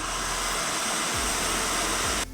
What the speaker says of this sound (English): And now we're gonna puree.